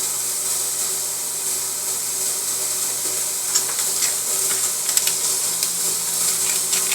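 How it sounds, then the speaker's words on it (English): Pork and vegetables sautéing together in a pan for pancit canton chow mein, a steady, even sizzle with occasional soft stirring clicks, fairly close and continuous with no talk. "Now we can have the pork combined with the vegetables. Saute them all together."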